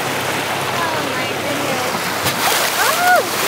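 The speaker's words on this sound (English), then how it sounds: "Oh, I got splashed." Seawater splashing onto a monohull sailboat, a loud continuous wash and spray up close, with excited voices talking over it.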